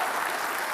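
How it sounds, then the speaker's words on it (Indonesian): Audience applause during a televised political debate between candidates, a steady dense clapping wash filling the short moment with no voices over it. "Terima kasih, Mas Anies, kita kasih tepuk tangan."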